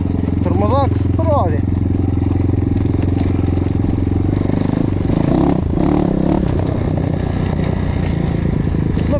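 A KAYA 512 motorcycle runs through a brake test, its steady engine drone mixed with rattling and scraping, while someone talks over the noise near the start.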